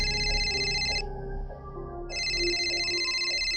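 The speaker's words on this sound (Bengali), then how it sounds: "সম্বিত ফিরল, ফোনটা বেজে ওঠায়।" Telephone ringing in repeated electronic bursts: a ring, a roughly one-second gap, then ringing again, clear and close.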